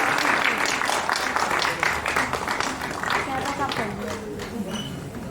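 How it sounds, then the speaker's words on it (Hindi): An audience at an Indian Sign Language Day celebration claps to greet deaf children being honoured, brisk applause that fades partway through as voices and chatter take over. "जोरदार तालियों की गड़गड़ाहट द्वारा इन सभी बच्चों का अभिनंदन करना है"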